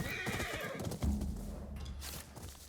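A horse whinnies loudly in Ghost of Yōtei, a rising-then-falling neigh followed by a snort, close and clear over a low game ambience, with no talk.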